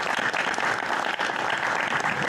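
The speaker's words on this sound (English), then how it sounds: "Let's give them a round of applause." Dense applause from the audience at a community expert panel on hurricane recovery, continuous and fairly loud for the whole stretch.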